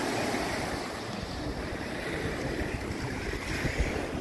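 Waves on a freshwater beach in Belém, Brazil, giving a steady, broad wash of surf noise mixed with wind buffeting the microphone, continuous and fairly loud.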